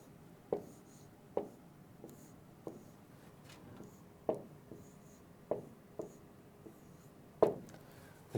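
A marker writes on a whiteboard in a quiet room, with soft squeaky strokes and taps coming in irregular bursts, close and faint.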